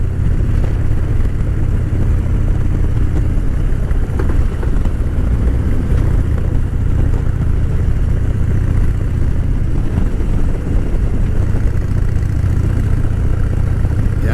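A motorcycle on fresh Metzeler ME888 tires not yet scrubbed in rides at an easy pace, its engine droning steadily and loudly with constant wind rush throughout.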